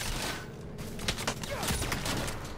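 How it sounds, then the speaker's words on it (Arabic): Gunfire from a sniper rifle in an online shooter video game, heard as several sharp, loud cracks that burst over a dense, noisy battle background. "هيد شوت طلقة واحدة"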